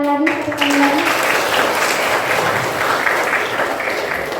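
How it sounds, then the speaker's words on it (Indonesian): A classroom of students clapping together after a lesson, a dense continuous patter of applause that holds steady and fairly loud throughout, with a brief voice at the very start. "Tepuk tangan lagi, tepuk tangan lagi"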